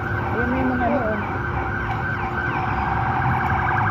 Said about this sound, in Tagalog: Ito na yung mga ambulansya.